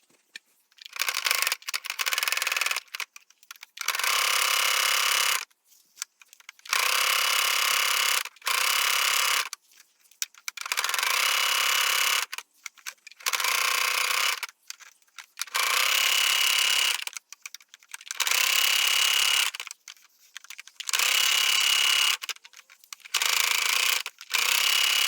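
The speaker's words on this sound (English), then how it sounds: "let's head to our sewing machine now" A sewing machine stitches fabric for a corset belt in repeated bursts of rapid mechanical whirring, each run lasting a second or two, separated by short silent pauses, close and loud with no voices.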